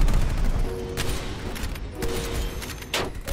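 Gunfire in the shooter Black Ops Cold War, loud and close, with several sharp reports spaced about a second apart over a dense, noisy game soundscape, no speech.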